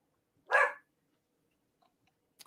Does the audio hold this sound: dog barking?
yes